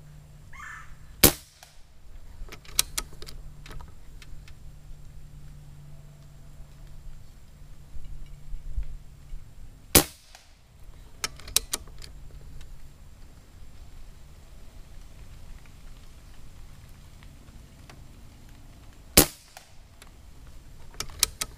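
Umarex Gauntlet .22 air rifle firing three sharp, isolated shots spaced roughly nine seconds apart, each a crisp pop with a short metallic ring, over a quiet outdoor background.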